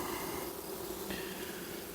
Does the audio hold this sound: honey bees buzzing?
yes